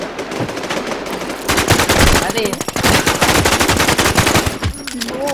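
Rapid automatic gunfire from a PvP match in the video game Infestation fills the clip with dense bursts of close, loud shots, and a voice briefly shouts near the end.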